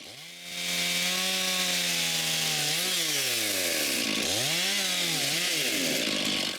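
A chainsaw bucking fallen tree branches into sections, loud and close, the engine revving up from idle then bogging and recovering through several cuts, with no voices over it.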